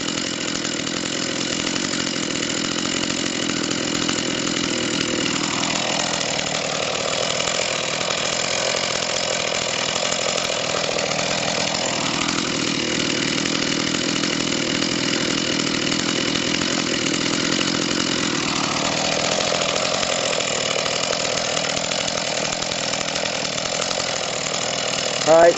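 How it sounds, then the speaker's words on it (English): A chainsaw runs steadily for a long stretch, cutting into a log, its engine dipping and rising twice under load, loud and close, with occasional voices underneath. "put the chainsaw down, leave it running, but put it down"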